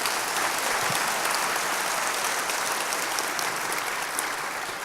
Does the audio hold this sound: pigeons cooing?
no